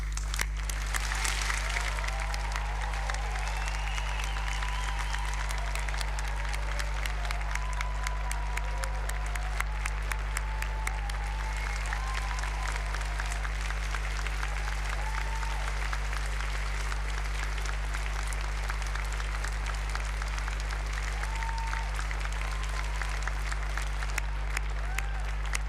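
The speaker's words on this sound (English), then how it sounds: "I'll ask everyone to give them an enormous round of applause" Sustained, dense applause from a large audience at a Milton Keynes degree ceremony, greeting new graduates as they stand. It holds steady and full throughout, with a constant low hum running underneath.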